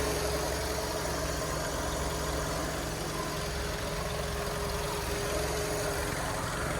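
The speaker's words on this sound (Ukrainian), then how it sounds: "Робота двигуна, присутні сервісні відмітки." A Skoda Octavia A5 1.6 MPI engine idling at a steady low rumble with a faint whine, continuous and unchanging, close by with no voices.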